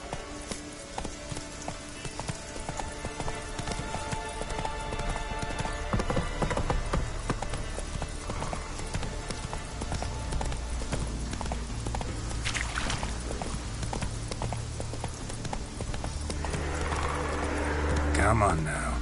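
A horse in The Witcher 3 trots with a steady, close clip-clop of hooves that continues throughout, under a man's speech and the game's ambient sound.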